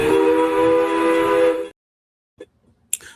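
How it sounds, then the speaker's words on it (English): A loud steam train whistle blasts steadily for about a second and a half near American University Park, then cuts off, leaving faint, brief knocks and a short burst of noise. "Sounds like a train."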